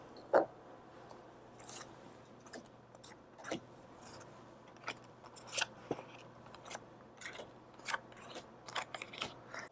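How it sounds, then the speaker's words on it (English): Tarot cards drawn one after another from a deck, giving sharp, quiet papery snaps and slides at an irregular pace, close up over a soft steady background hum. "let me pull out the rest of these cards real quick."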